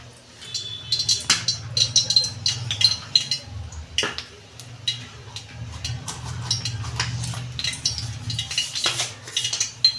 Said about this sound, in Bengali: কড়া বসিয়েছি, আমি কড়াই তেল দিচ্ছি।